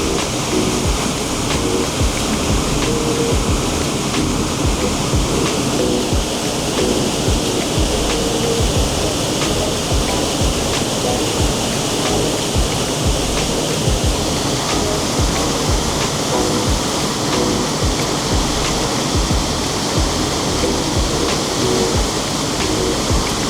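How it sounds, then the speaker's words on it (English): Fast-flowing rushing water roars steadily and loudly, a dense continuous torrent of surging noise with no pauses and no voices. "the flow of this water looks terrifying"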